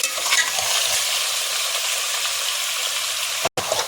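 Steady hissing sizzle of ginger-garlic paste and chicken frying in a hot pan for chicken korma, with faint scraping of stirring, continuous and close, briefly cutting out near the end.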